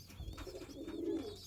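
An Andhra Lal Sira pigeon coos softly and close by, a low rolling call over faint background rumble.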